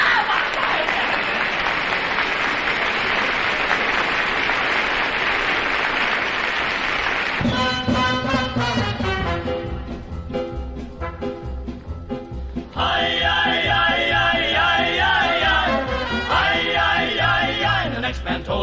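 A big audience claps for a 1960s vocal group in a dense, loud wash of applause that cuts off abruptly into instrumental music with a singing voice.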